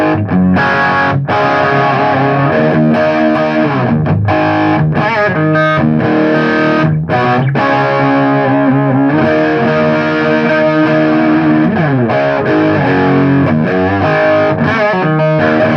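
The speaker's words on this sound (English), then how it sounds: "here's some drive tones out of the little Crate amp" An overdriven electric guitar through a small Crate solid-state amp plays a continuous stream of gritty, distorted chords and riffs, loud and unbroken throughout.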